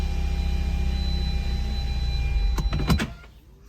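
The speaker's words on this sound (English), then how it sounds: "the car will kind of automatically, when you put it in park, just turn itself off" Engine of an Audi S3 idling with a steady low rumble, then shutting itself off automatically after being put in park, leaving a few brief mechanical clunks before near silence.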